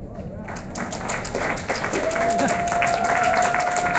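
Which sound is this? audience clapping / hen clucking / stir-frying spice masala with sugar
audience clapping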